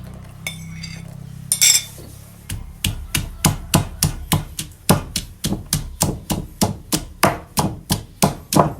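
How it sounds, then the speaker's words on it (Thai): Chili and garlic are pounded together in a mortar, with a steady run of about twenty close, dull thuds and knocks at an even, brisk rhythm after a few scattered clinks at the start. "พริกกระเทียมแล้วก็กระเทียมครับตำรวมกันเลยครับ"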